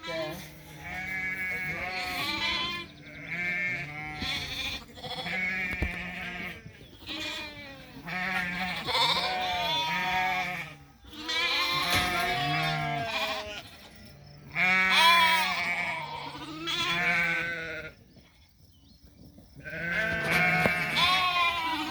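Many sheep bleating in a crowded pen during sorting on a farm, overlapping calls in repeated bursts with short gaps, close and clear, with people talking now and then among them.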